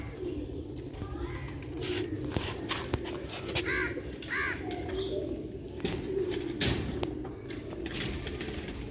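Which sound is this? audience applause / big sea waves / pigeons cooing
pigeons cooing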